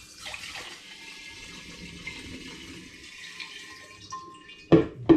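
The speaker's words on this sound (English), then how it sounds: "I'm going to pour this into a clean and fresh demijohn." Distilled spirit pours steadily into a clean glass demijohn with a soft, continuous trickle and gurgle. A couple of louder knocks of handling come near the end.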